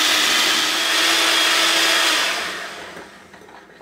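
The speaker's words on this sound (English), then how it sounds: "So now I'll turn it on and we're going to blend it just until it starts to cream." An electric blender whirs steadily as it mixes cream cheese with fruit cocktail juice for an old-fashioned Newfoundland trifle, a loud close motor drone that holds for about two seconds, then winds down and fades.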